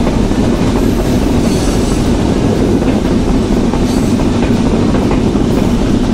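Padma Express intercity train running through Mouchak station without stopping, a loud steady rumble of wheels and carriages with faint clickety-clack rhythm, continuous and close throughout.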